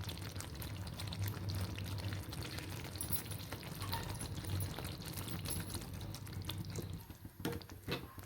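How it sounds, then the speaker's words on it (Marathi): Hot water pours steadily into a soybean gravy, a continuous low gushing and splashing that runs evenly throughout and eases off near the end. "आता ही ग्रेव्ही तुम्हाला वाटल्यास अशी ठेवू शकता, पण आपण याच्यात थोडंसं गरम पाणी घालू"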